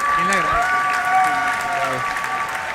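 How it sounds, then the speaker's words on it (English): An audience at a Rubik's Cube world championship final applauding and cheering, with sustained clapping under a voice speaking through a microphone. "You have so many people cheering for you."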